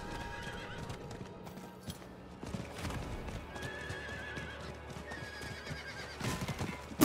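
Horse hooves clip-clop at a gallop in Diablo IV, with whinnies and neighs breaking through over a steady game soundtrack.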